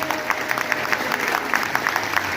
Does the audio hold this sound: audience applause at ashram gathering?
yes